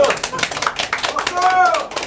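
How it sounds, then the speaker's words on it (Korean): A group claps rhythmically while voices shout over the applause, close and fairly loud. "여러분들이 박수! 박수! 박수!"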